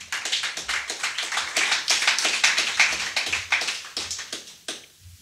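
A church congregation claps in praise of the Lord Jesus during a French-speaking healing service; dense, fairly rhythmic applause from many hands carries on for about five seconds, then thins out and stops.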